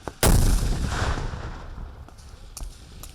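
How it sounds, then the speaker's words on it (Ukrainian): A simulated artillery barrage during a military training exercise: a sudden loud explosion with a rumbling boom that fades slowly, followed by a few fainter distant bangs. "Пояснюють, це імітація артобстрілу."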